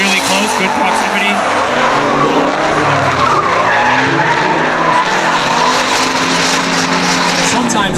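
Tires squeal in a long, continuous skid as a 600-horsepower Mustang drifts in a drift competition, its engine roaring, loud and close, while an announcer talks over it.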